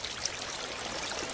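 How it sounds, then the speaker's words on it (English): Steady, quiet hiss of running water, like a tap left on, continuous and unbroken for a brief moment with no voices. "How long has this water been running?"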